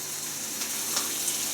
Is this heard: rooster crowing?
no